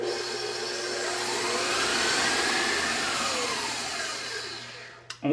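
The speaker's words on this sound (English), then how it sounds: "I'm going to keep beating it just to make sure that it's all well combined." An electric mixer whirs steadily as it beats cinnamon roll cookie dough, its motor pitch slowly rising and falling, close and continuous before a short clatter at the end, with no talking.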